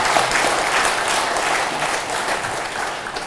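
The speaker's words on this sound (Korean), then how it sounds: "스님들한테 감사하다고 박수 한번 쳐야겠다." An audience at a meditation expo gathering applauds to thank Buddhist monks, giving a dense, steady round of clapping that stays loud and continuous throughout.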